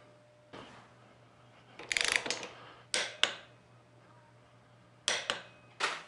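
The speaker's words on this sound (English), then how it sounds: "Tighten upper shock absorber mounting bolt to 59 Newton meters." A ratchet tightens the upper shock absorber mounting bolt on a motorcycle rear suspension, giving short bursts of crisp clicking pawl strokes separated by pauses, close and fairly quiet over a low steady hum.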